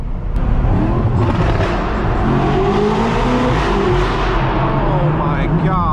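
Straight-piped BMW M4 F82 accelerating hard with a loud, raw exhaust roar that holds steady and rises in pitch as it pulls through the gears, filling the cabin close and constant.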